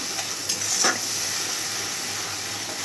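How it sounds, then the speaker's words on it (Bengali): Spice masala for egg curry fries and is stirred in a pan, giving a continuous bright sizzle and hiss with a few brief stirring scrapes near the start. "এবার ভালো করে মশলাটাকে কষিয়ে নিতে হবে।"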